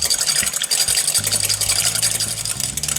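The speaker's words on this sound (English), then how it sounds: "So into a bowl we're going to place in our Dijon mustard, then some red wine vinegar, and we're just going to just quickly mix those two together" Dijon mustard and red wine vinegar whisked quickly together in a bowl, a steady close scraping and stirring with a faint low hum underneath, no talking.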